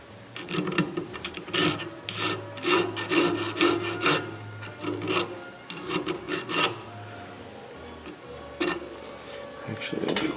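A hand file rasps over the metal of an Emmert pattern maker's vise under restoration, giving repeated rhythmic strokes, loud and close, with a low hum beneath and short pauses between passes.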